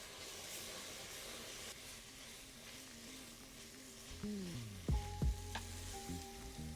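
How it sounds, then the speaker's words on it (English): A whisk or spoon stirs white flour into melted butter for a roux for French onion soup, a soft steady sizzling and scraping in the pan, with faint tonal sounds rising near the end. "Add 1 big tablespoon of white flour and make sure you're gonna mix it properly."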